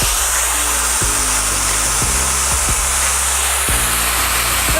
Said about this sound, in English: It got warm that fast, so it doesn't take long to heat up like most dryers.